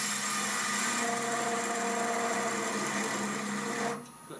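Wood lathe running with a parting tool cutting a long-stemmed wooden goblet, giving a steady close whine with humming harmonics. The sound drops away abruptly near the end as the cut stops.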